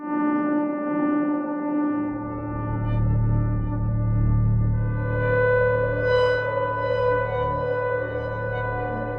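A granular resynthesis virtual instrument holds a sustained synthetic pad on a layered chord, a deep bass tone entering after a couple of seconds as upper harmonics shift and shimmer; no talking.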